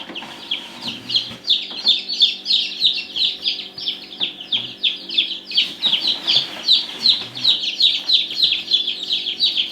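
Newly hatched bantam chicks and other chicks peep constantly in fast, high chirping bursts, close and lively, over a faint low hum.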